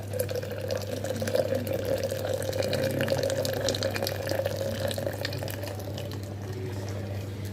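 Steady trickle of hot water poured into a French press coffee brewer, continuous and close, with a low hum underneath and no talking.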